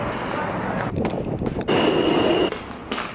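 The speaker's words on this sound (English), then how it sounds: "I'm just getting back on the subway, going a little further downtown." An underground subway train rattles and roars along the tracks, loud and close from inside the car, with squealing metal tones and shifting rumble.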